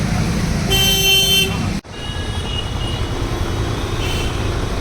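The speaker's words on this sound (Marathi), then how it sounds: "भावाची गाडी आली आज खूप सगळे आनंदी आहे" A car horn blares in one long steady honk close by as a brother's new car arrives, then cuts off abruptly, leaving a low outdoor rumble and a faint second toot.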